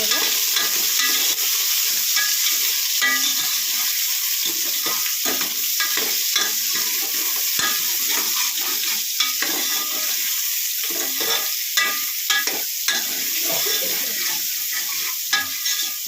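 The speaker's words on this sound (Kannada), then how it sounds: "ಫ್ರೈ ಮಾಡ್ಕೋಬೇಕು" Soya chunks fry in hot oil for a mutton-style sambar, a continuous close sizzle broken by frequent scrapes and clacks of a spoon stirring the pan, with no talking.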